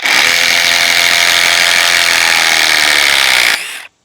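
A RIDGID Stealth Force impact driver runs in reverse, a loud, steady high-pitched whir held for about three and a half seconds before it cuts off and winds down. It is close up, with no talking.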